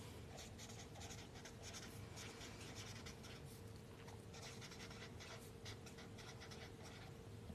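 Continuous pen or pencil scratching while writing notes, faint and steady with small rapid strokes over a low room hum, no voices.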